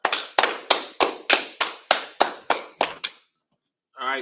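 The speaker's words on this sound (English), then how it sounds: "All right, clap it up." About ten slow, evenly spaced claps ring out in a room, loud and sharp, then stop; a voice starts speaking after a short pause.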